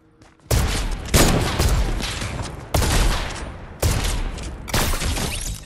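Fortnite gunfire, five loud separate shots spaced about a second apart, each a sharp crack with a ringing tail that fades before the next, and no talking over them.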